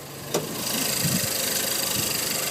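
A turbocharged, direct-injected 1.6-liter dual overhead cam four-cylinder car engine idling close by, a steady low rumble with a slight rhythmic pulse after a brief click at the start.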